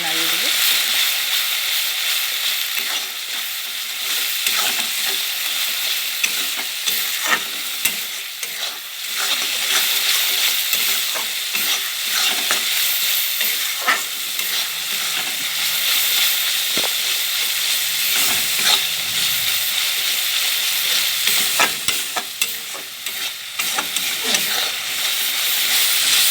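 Chicken curry masala sizzles and fries in a pan at a village outdoor kitchen, with steady hissing and repeated scraping stir strokes at close range, running continuously with no talk.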